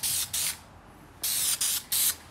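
Short bursts of spray coating hit the panels of an Audi car, five hissing blasts in an uneven rhythm with quiet gaps between them. The sound is close and loud, and no one speaks.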